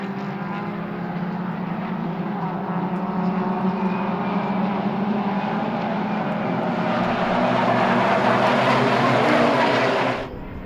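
Suzuki Swift race cars on the opening lap of a Swift Cup Europe race at Hungaroring, a loud continuous engine drone that swells as cars pass close, then cuts off sharply near the end.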